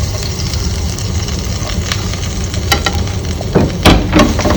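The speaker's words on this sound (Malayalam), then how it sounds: "ഒന്ന് ചൂടായതിൻ്റെ ശേഷം നമുക്ക് എന്ത് പറഞ്ഞാൽ ഇഞ്ചി വെളുത്തുള്ളി കുറച്ച് ചതച്ചിടുക" Crushed ginger and garlic sizzle steadily in hot fat in a pan while chicken soup is being made. The close, hissing crackle continues throughout, with a few sharper pops and stirring clicks near the end.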